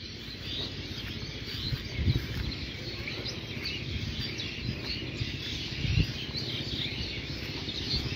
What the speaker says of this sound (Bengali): এই যে অনেক সুন্দর কিচিমিচি শব্দ